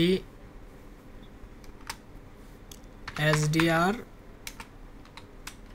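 Computer keyboard keys tapped while a file name is entered for saving, a few sparse clicks spread across the moment with a brief spoken word near the middle, close and moderately quiet over a steady room hiss.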